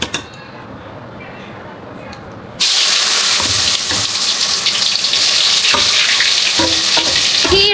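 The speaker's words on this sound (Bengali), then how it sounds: "তখন কাঁচকলাটা দিয়ে দেই ভাজা।" Raw green banana frying in a pan: a moderate sizzle suddenly swells into a loud, bright, continuous crackle and hiss that keeps going, with occasional utensil clinks.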